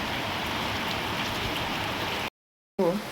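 Heavy rain pours during a sudden Kalbaishakhi storm over flooded roads and houses, a dense, continuous hiss that cuts out briefly before a short burst of other noise returns.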